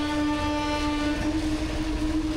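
A train horn blares on a railway line near an underpass by a road in Belur, Howrah, a loud, steady sustained tone held throughout over rumbling rail noise.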